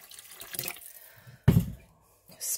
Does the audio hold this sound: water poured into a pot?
yes